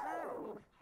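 Krypto the super dog in Luigi's Mansion 3 gives a single short, close bark-like yelp that falls in pitch and fades out, heard alone.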